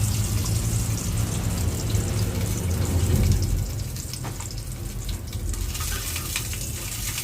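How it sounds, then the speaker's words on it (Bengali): Spice paste frying in hot oil, a steady loud sizzle and crackle throughout with a slight drop in intensity partway. "যেটা পেস্ট করে রেখেছিলাম ওটা আমি তেলের মধ্যে দিয়ে দিলাম।"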